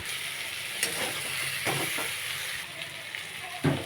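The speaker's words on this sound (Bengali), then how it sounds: "অল্পক্ষণের জন্য কষিয়ে নেব।" Vegetables with coriander, cumin and garam masala powder sautéing in a pan for a curry with pangas fish, potato and brinjal. A soft, steady sizzle runs under a few sharp stirring clatters, fairly faint and close.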